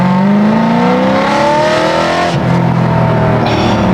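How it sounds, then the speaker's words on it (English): A BMW M car's six-cylinder engine revs hard through its exhaust, the loud, close note climbing steadily in pitch, dipping briefly, then surging again, with no voices over it. "I'm sorry, your six-cylinder doesn't sound like that, coming from a guy with a BMW six-cylinder M car also."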